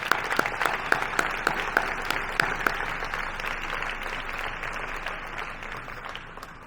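Audience applause at a mayor's New Year address in Aniche, a steady wash of clapping from a hall crowd, with a few sharper claps standing out early before the sound evens out and starts to fade.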